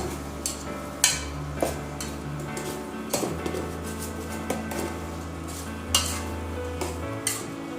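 A spoon scrapes and knocks around a pot of catfish over a steady sizzle, with occasional sharper clinks against the metal.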